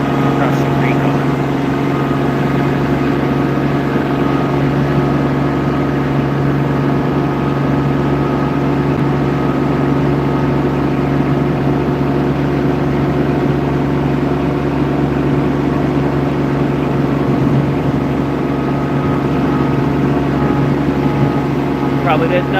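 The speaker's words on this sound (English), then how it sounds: "Probably didn't know you were going on a tractor ride today, but here we are." A tractor engine chugs along steadily during a ride near a creek, a loud, even drone that stays close for the whole stretch.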